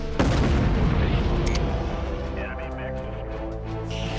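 An enemy urban mech is destroyed in MechCommander 2, setting off a heavy boom followed by rumbling explosion and scattered gunfire that decays over a few seconds.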